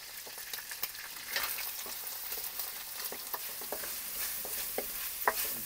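Garlic and onion sizzle in hot oil in a pan at the start of a Filipino pakbet, a steady close crackle with scattered sharper pops and occasional stirring scrapes, no voices.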